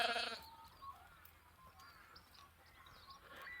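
A sheep on an Australian smallholding gives one loud bleat at the start, followed by quiet outdoor ambience with faint distant bird calls.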